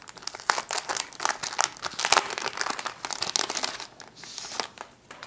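Crinkly plastic packaging around journal cards is pulled open up close, giving a busy run of sharp crackles and rustles that rise and fall for several seconds.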